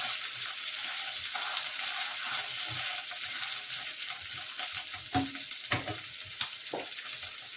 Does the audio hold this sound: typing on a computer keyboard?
no